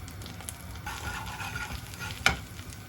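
Steady sizzling of tomato paste frying in a pan, with occasional stirring scrapes and a sharper clink near the end.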